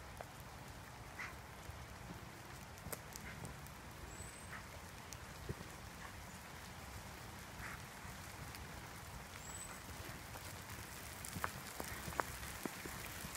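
Rain drips in wet woods, with scattered faint drops and patters over a quiet, steady hiss. A couple of soft, distant bird calls rise briefly.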